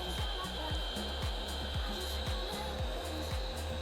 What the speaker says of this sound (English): You can use a cheap plug-in heat gun. You don't have to have a battery-powered one like I'm using.